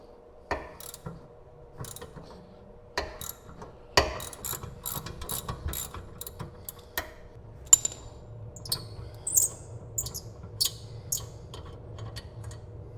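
A hand ratchet works loose a tight rear brake bolt on an Acura TL, giving bursts of quick clicking pawl ticks in short strokes near the mic, separated by pauses and small metallic knocks, with no speech.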